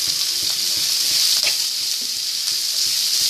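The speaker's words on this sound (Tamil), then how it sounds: "இப்போ இது நல்லா வதங்கட்டும்." Onions and curry leaves sauté in hot oil for an egg curry. A loud, continuous, close sizzle hisses throughout, with occasional stirring taps against the pan.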